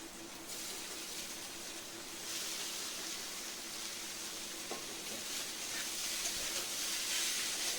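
Chopped banana stem (thor) tipped into a hot oiled pan for a Bengali dish, producing a steady hissing sizzle with a soft steamy wash that swells slightly, close and continuous.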